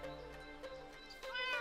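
Cat meowing in the video game Minecraft: a couple of close, clear meows with a drawn-out, wavering tone, heard alone without talk.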